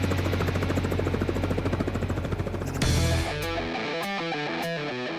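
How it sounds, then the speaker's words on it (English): A helicopter's steady, heavy rotor thrum with buzzing harmonics, slinging a load in Alaska, suddenly drops away partway through, leaving a few softer tonal sounds. "Helicopter sling."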